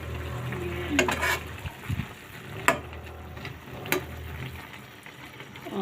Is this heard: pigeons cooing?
no